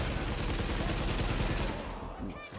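Rapid assault rifle fire from The Division video game, a dense continuous burst of shots lasting about two seconds before tapering off into a quieter tail.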